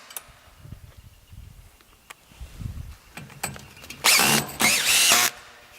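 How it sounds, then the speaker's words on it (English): A power drill drives screws into a wall mount for a heavy aluminum 140 wall-extrusion handrail, with two short, loud bursts of motor whine near the end after quieter handling clatter and thumps. "I'll add the 2 additional screws."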